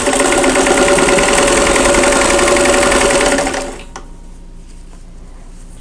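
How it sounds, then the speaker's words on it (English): Sewing machine stitching two folded star quilt block sections together, a loud steady rapid mechanical whir that runs continuously, then stops, leaving quiet room tone. "so now I'm going to sew these 2 sections together"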